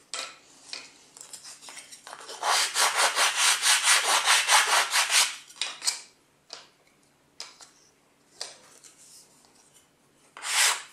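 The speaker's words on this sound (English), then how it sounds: "So you sand along there, and a little bit of sanding prepares them for assembly." Rhythmic back-and-forth rasping strokes of sanding along wooden parts, close and steady in the middle, then slower, scattered scrapes of abrasive rubbing against wood.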